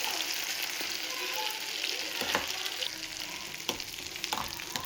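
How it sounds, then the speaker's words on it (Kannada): Thick ground masala for a Mangalore Kundapura-style prawn ghee roast fries in ghee with Byadgi chillies and cashews, giving a steady close sizzle with occasional scraping stirs and sharper crackles, and no talking. "ಸೊ ಮಸಾಲೆ ಎಲ್ಲ ಸೇರಿಸ್ಕೊಂಡು ನೀಟಾಗಿ ಫ್ರೈ ಮಾಡ್ಕೋಬೇಕು."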